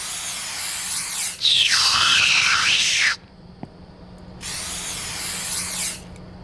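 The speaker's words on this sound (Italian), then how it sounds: "È ratto spray questo." Rat spray hissing from a can in a horror video game set in a Japanese convenience store, two long steady bursts nearly two seconds each with a short gap and a small click between them, loud and close.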